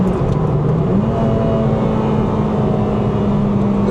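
A Honda Civic Type R, the JDM version, accelerating hard as VTEC engages, its engine note jumping to a higher, steady wail inside the cabin over loud road and wind noise.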